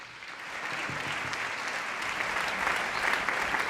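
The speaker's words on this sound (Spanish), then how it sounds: "Un fuerte aplauso para vosotros" Concert audience applauding a municipal band, a full, even roar of many hands that swells slightly toward the end, steady and moderately distant for nearly four seconds.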